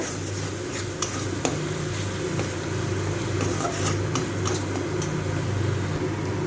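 Spices with Kashmiri chili powder being sautéed in a pan for masala kudri, a soft continuous sizzle under scraping stirs and a few sharp metal utensil clinks against the pan, close and moderate.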